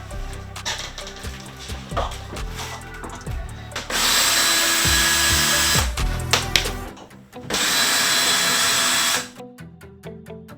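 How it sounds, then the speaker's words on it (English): Vintage camper cabinets being taken apart with a screwdriver, heard as close, irregular clatter, knocks and scraping, with two long loud bursts of harsh, drill-like whirring between them. "Now I've got my trusty screwdriver."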